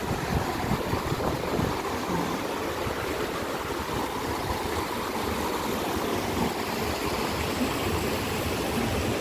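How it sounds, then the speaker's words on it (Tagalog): Water splashes and trickles steadily in a small outdoor fountain, a continuous broadband wash with no pauses, fairly close and moderately loud, with no voices over it. "meron na naman dito na small fountain"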